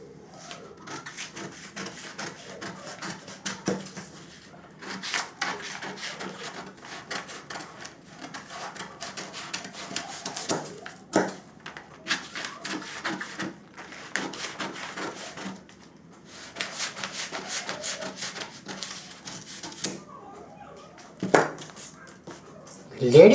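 Fabric cut with scissors while making a ladies' low-waist pant, heard as a long run of close, dry snips and clicks in irregular bursts over about twenty seconds, with steady room tone underneath.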